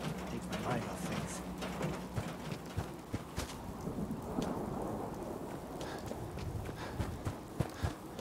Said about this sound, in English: Thinking how wonderful it'd be to get out of this infernal rain